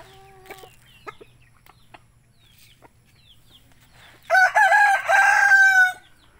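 Chickens and a rooster at feeding time, with faint scattered clucks early on, then a loud, close rooster crow ringing out for nearly two seconds near the end.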